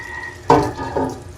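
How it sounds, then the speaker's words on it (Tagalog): Water poured from a container into a cooking pan of pork picadillo with tomato sauce: a short splashing gush, a pause, then a second smaller pour, close and fairly loud. "Lagyan ng tubig."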